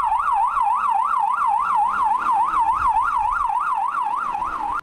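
Loud, steady ambulance siren wailing in a fast, regular up-and-down warble close by, continuous throughout with no voices.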